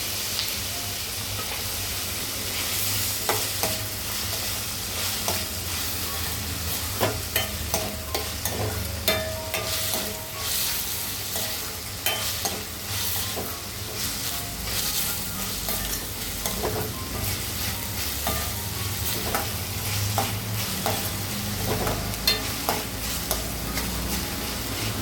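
Tomatoes are stirred and fried in a pan for an egg and potato curry: a spoon scrapes and taps the pan in irregular strokes over a constant crackling sizzle, close and fairly loud.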